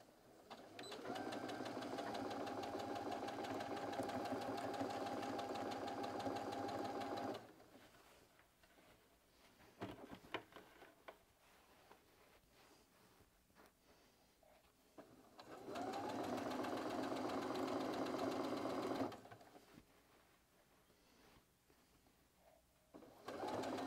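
A sewing machine runs stitching around the opening of a fabric organizer with pockets, in two long, steady bursts separated by quieter handling sounds and small clicks, close by and with no talking.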